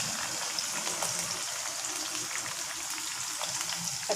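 Garlic sizzles steadily in hot oil while a pomfret fish curry is being cooked, a dense, even crackling hiss with small pops, close and unbroken throughout.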